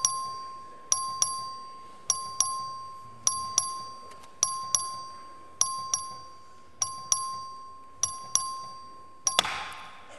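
A voting bell in the Texas House chamber rings in a long series of sharp, evenly spaced electronic dings, each decaying briefly before the next, steady and clear with no talk over it.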